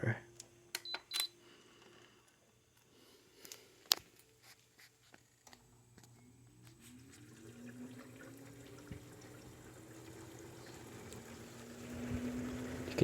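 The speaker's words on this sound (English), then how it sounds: "You can hear the water splashing down on the condenser fan blade." Inside an LG air conditioner, water splashes onto the spinning condenser fan blade, a faint watery rush that builds steadily after scattered clicks and taps, with a person talking.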